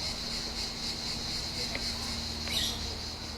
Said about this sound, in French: j'ai enregistré des bruits de grillons dans un gîte dans les Alpes de Haute-Provence